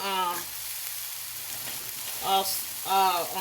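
Coleslaw mixture sizzles and fries in a pan for a vegetable-packed meat loaf, a steady close crackle with a couple of brief voiced bursts over it.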